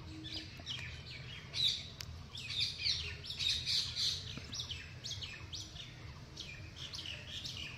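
Budgerigars kept in a colony cage chirp and squawk in quick bursts, with faint chatter continuing after the livelier opening seconds under a low background hum.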